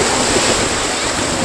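Waves rolling onto a Phan Rang beach produce a sustained loud hiss and rumble of surf, with gusty wind rumbling across the microphone and a faint trace of voice underneath.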